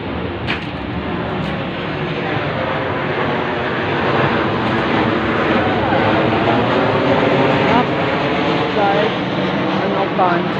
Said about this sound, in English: Have the planes stopped? No, they have not stopped. They won't stop.